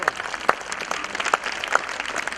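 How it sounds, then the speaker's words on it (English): Scattered clapping from a small group with a few sharper claps standing out, steady and moderately loud. "Let us welcome her with a huge round of applause."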